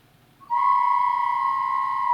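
A single steady, high, pure whistle tone starts abruptly and holds unbroken for nearly two seconds, clear and fairly loud.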